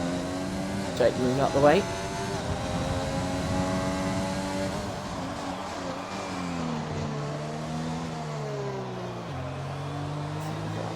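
An AlphaTauri Formula 1 car in a racing video game at Zandvoort, its high engine note droning steadily with rising and falling shifts under continuous commentary, a brief sharper rev burst near the start.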